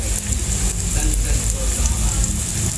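Vegetables fry in a little cooking oil with a steady, close hiss and crackle, while a person talks over the sizzling.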